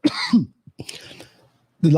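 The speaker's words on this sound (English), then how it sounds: "I got a cough again." A few short, rough coughs close to the mic, one after another, with brief pauses and a voice resuming afterward.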